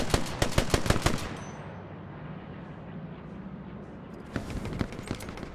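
Close automatic gunfire from a BAR in the WWII shooter Hell Let Loose: a rapid burst of loud shots, a brief lull of rumbling battlefield ambience, then another cluster of shots near the end.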